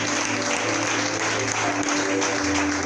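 A church congregation at a conference claps loudly in continuous applause, close and full, with a sustained musical tone held underneath and faint voices mixed in.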